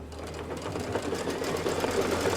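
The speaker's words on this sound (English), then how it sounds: "Here's the belt tack down stitch." An embroidery machine stitching a belt tack-down line on a Santa table runner, making a fast, continuous mechanical chatter of needle strokes, close and steady throughout.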